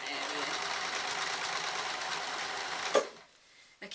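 A sewing machine stitching while mending trousers runs with a fast steady rattle for about three seconds, then stops with a clunk, and talking carries over it.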